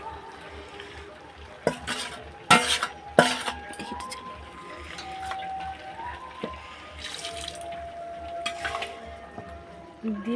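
Mixed whole vegetables for gota shashthi chorchori are stirred in a pot with ginger-cumin paste, with a low frying hiss broken by sharp clinks and scrapes of a utensil against metal, while music plays softly underneath.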